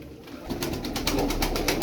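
Tumbler pigeons give low, soft coos close by amid faint fluttering and shuffling in their loft, with no one speaking.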